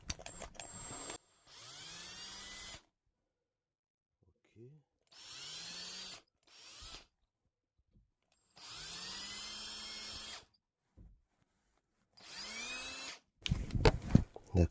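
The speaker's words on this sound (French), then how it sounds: "Essayer de percer ça." Power drill boring a hole while working on an old camper van, in four separate bursts of rising and falling motor whine with pauses between, fairly close and loud, ending in a clattering burst.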